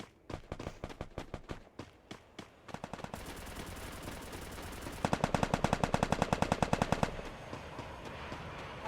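Rapid automatic gunfire in the Free Fire battle royale game, starting as separate sharp shots, then building into dense, loud bursts of machine-gun fire that stop abruptly near the end.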